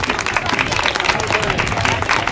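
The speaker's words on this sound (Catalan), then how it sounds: "Vinga, un aplaudiment per vosaltres." Festival crowd applauding at the Festa dels Bobuls i les Margeridasses, dense continuous clapping close up with crowd noise mixed in, loud and sustained.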